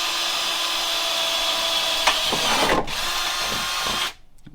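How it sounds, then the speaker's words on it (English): Power drill boring a hole for a rivnut with a worn bit, a steady high whine for about four seconds with small changes in load, then spinning down abruptly. "Not the best drill bits either."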